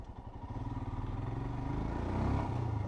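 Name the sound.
Royal Enfield Himalayan 411 motorcycle engine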